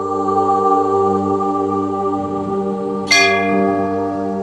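A temple bell struck once at Gangotri, the source of the Ganges, ringing out clear and bright with a long shimmering decay over a steady droning background.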